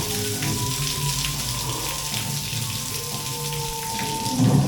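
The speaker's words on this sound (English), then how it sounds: "I knew I could hear water earlier." Water drips and trickles steadily inside a limestone cave at Cheddar Gorge, a continuous wet patter with a few brighter drops standing out against the enclosed ambience.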